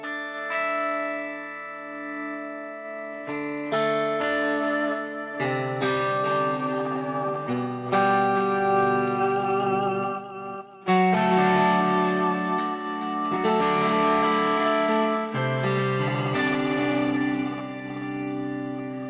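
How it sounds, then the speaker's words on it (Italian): An electric guitar runs through a Quad Cortex pitch shifter, with the dry and shifted signals blended: a continuous run of bright, layered melodic phrases and chords rings out with a glassy doubled quality and no speech. "questo è il suono invece processato dal pitch"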